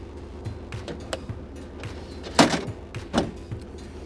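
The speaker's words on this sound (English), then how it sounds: "We have a power tailgate." The power tailgate on a 2025 Ford F-150 Tremor pickup operates with a low motorized hum and soft ticks. Two sharper clunks follow as the latch and gate seat, heard close with no talking.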